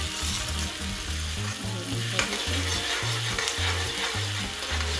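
Tomatoes sizzling in frying dal over a low flame, a steady close crackle and hiss with soft stirring scrapes and gentle pulses running throughout, and no voices.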